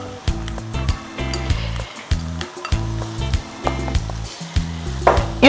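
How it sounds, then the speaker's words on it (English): Onions sizzling in a hot pan for an egg stew, a steady frying hiss broken by rhythmic scraping or stirring strokes, close and fairly loud with no talk. "I think the first onion is frying. So I just add the rest and allow to fry."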